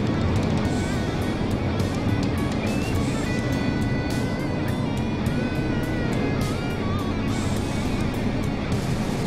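Super late model race cars roar around Bristol in a continuous, loud engine drone, with pitch sweeps of individual cars passing close by amid dense pack noise.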